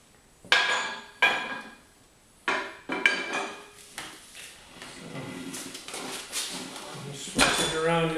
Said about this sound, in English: you can just kind of wrestle it by hand and push the first bead over the aluminum rim.